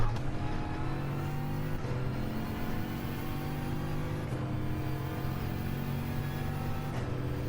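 A sim racing car's engine drones steadily at Monza on a fuel-saving lap, its harmonic whine climbing and then dropping sharply at three upshifts around 1.8, 4.3 and 7.2 seconds. The engine sound is loud and continuous, with no voices.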